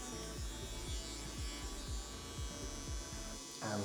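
An electric hair trimmer buzzing close up as it edges hair on a curly brushback taper cut, with a steady motor drone and repeated short rhythmic strokes against the hair.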